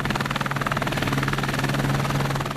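A helicopter from a wildfire helicopter attack crew thrums steadily with rhythmic rotor chop and a low engine hum, loud and close throughout, with no talking.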